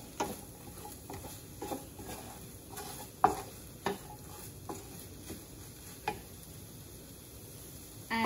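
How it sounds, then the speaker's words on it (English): Eggs and vegetables being mixed in a frying pan, a quiet low sizzle under scattered sharp taps and scrapes of a utensil against the pan at irregular intervals. "I'm going to mix the eggs and vegetables together."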